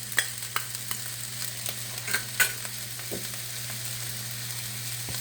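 Ginger and garlic fry in a hot pan, a steady close sizzle broken by several sharp scrapes and taps of a utensil stirring, over a low constant hum.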